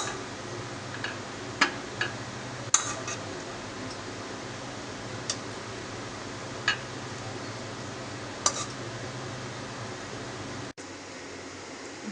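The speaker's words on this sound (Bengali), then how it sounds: "ভিউয়ার্স, আমি নুডলসটাকে একটি পাত্রে সুন্দর করে বেড়ে নিচ্ছি" Utensils clink sharply against a bowl while spicy noodles cooked in a little oil are served, with several scattered ticks and taps over a steady room hum.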